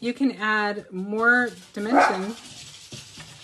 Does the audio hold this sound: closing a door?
no